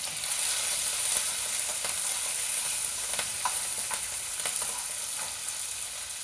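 Steady, loud sizzling of a tempering of spices and green chillies frying in hot oil, with occasional crackles and pops throughout, close up and without speech.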